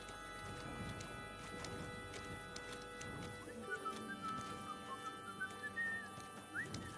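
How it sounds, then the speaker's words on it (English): A character whistles a faint, wavering tune in Kingdom Come Deliverance 2, starting midway through, over the steady clip-clop of horse hooves and quiet game ambience. "What are you whistling for?"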